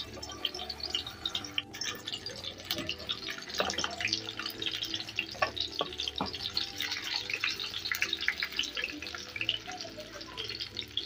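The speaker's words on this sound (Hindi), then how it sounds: "देखिए ये हमने फ्राई करने रख दिए" Red bean (rajma) kebabs shallow frying in hot oil give a steady, moderately close sizzle with dense crackle and scattered pops, continuous throughout with no talking.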